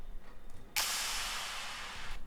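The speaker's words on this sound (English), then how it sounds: "These are simply 2 clap samples which I found and which sound like this." Two clap samples reversed and faded in, heard as a faint hiss that swells, then a sudden bright noisy burst that holds steady before trailing off, quiet and alone.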